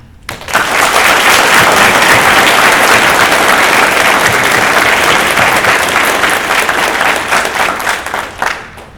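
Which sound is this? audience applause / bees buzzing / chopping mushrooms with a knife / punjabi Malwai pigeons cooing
audience applause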